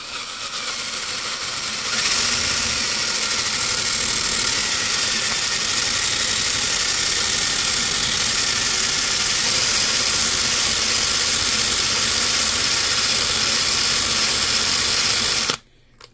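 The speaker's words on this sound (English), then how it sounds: "Wire wheel actually does a pretty damn good job at it." A wire wheel strips the insulation coating from brushless motor wires with a steady, loud, high whirring grind that runs continuously for about fifteen seconds before stopping abruptly.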